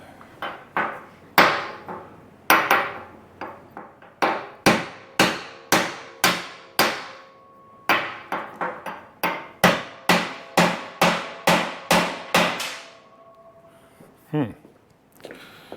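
Sharp, ringing hammer blows strike a thick metal front suspension part of a 1957 Chevrolet Bel Air in a steady series, about twenty hits with a short pause partway through, loud and close.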